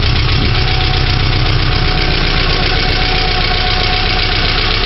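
A Subaru EJ22 engine idles steadily on its first start after a rebuild, with a rapid, continuous clacking from its hydraulic lifters. The engine sits close by, loud and unbroken throughout, with no talking over it.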